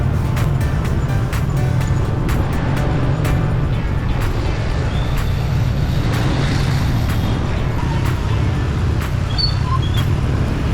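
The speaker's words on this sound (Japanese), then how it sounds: "すごく道が混んでおりましたがしばらくバイクに乗っておりましたらハノイ大教会に到着できました。" Steady road traffic in Hanoi, Vietnam, heard from a motorbike on congested streets, with engine rumble and passing vehicles, continuous and fairly loud, with sharp clicks and distant horn-like tones scattered throughout.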